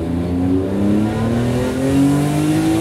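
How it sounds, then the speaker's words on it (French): BMW M3 E46 with the S54 B32 straight-six revving steadily, a loud, sustained metallic engine note that climbs slowly and holds close by. "le bruit magnifique du S54 B32 qui a un bruit métallique les amis"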